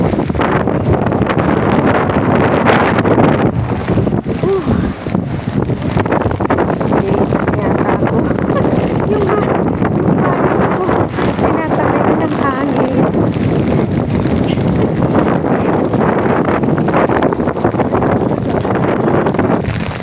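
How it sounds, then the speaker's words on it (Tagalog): Strong typhoon wind batters the microphone in heavy, continuous gusts, roaring and buffeting for the whole stretch. "ang lakas ng hangin"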